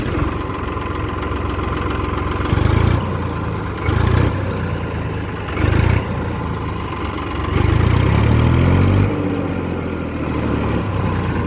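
An Eicher 480 45 HP tractor engine runs close by, a loud steady diesel chug that rises in bursts of revving and settles back to idle, with no voices.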